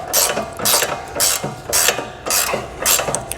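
Ratchet clicking steadily as fine-thread bolts are loosened on a sway bar end link of an S550 or S650 Ford Mustang, in six quick close bursts of ratcheting with short pauses between them.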